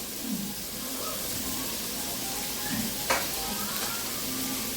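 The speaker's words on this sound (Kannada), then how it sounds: "ಫ್ರೈ ಮಾಡ್ತೀವಿ" Vegetables frying in oil in a pan for egg fried rice, giving a steady moderate sizzle throughout with faint stirring scrapes.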